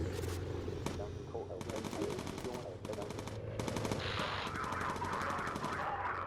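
Aircraft gunners in the bomber game Bomber Crew let loose rapid machine-gun bursts, several long rattling volleys separated by brief pauses, loud and close, with someone talking under the fire.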